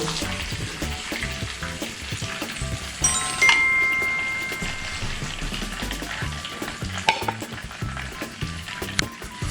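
A5 wagyu beef sizzles and fries steadily in a hot pan, a dense crackling hiss with a few sharper spits and light utensil clinks, close and continuous without any talk.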